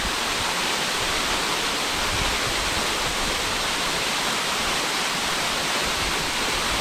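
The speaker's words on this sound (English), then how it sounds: "the sound of this waterfall" A waterfall in a hidden spot in Colombia roars as a dense, steady rush of falling water, loud and close, with no let-up or other sounds.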